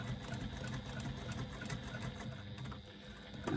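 Sewing machine stitching along the side of a zipper placket on a bag, a quiet steady mechanical whir with rapid regular needle ticks, close by and alone.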